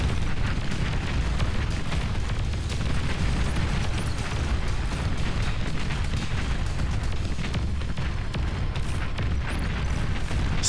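Tank shots explode in the strategy game Beyond All Reason: a dense, continuous rumble of booms and blasts during a 1v1 battle, loud and unbroken throughout.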